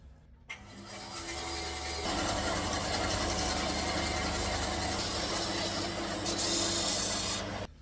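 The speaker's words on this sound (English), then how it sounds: "that's probably good enough to cut the ends of the pegs off now" Wooden violin pegs have their ends cut off with a steady rasping, sawing stroke that starts after a short pause and carries on loud and continuous to the end.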